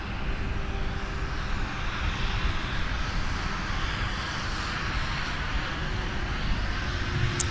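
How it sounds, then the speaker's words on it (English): Delta Boeing 757 jet landing at Minneapolis–Saint Paul airport, arriving from Los Angeles: a steady, loud, broadband engine roar that fills the whole stretch without letting up. "We got Delta 914 from Los Angeles with the 757 arriving on the north side."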